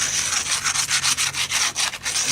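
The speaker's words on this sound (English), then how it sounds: "If you want, you can get sandpaper or a rock and rub everything off." Sandpaper rubs rhythmically across a repaired concrete foundation, a loud, close, rasping scrape repeating in quick back-and-forth strokes with no voices.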